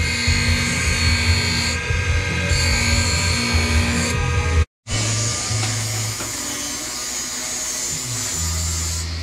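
Welding one-by-one box square tubing for a mini quad frame in a workshop, heard as a loud, steady electric buzz and hiss with a brief cutoff midway before the arc resumes.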